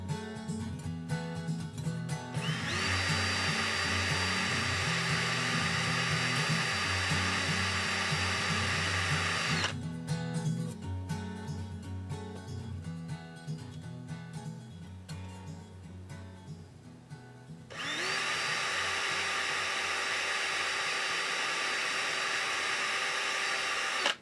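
Two long bursts of a power drill drilling holes at steady speed, separated by a pause filled with faint clatter and handling sounds.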